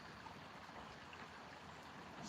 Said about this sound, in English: some running water. There's some beaver dam action here or something.